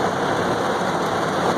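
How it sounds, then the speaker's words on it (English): Summer rain falls in Florida as a dense, continuous hiss of drops on surfaces, loud and steady throughout, with no voices. "I think the rain is starting to let up a little bit."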